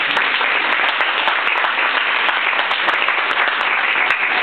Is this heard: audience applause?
yes